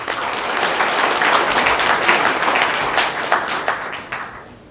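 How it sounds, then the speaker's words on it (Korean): Audience applause at a Buddhist book launch celebration honouring a speaker, dense steady clapping from a full room that swells and then tapers off toward the end. "귀한 말씀을 해주신 올레이영 성을보선 대명사님께 큰 박수를 드립니다"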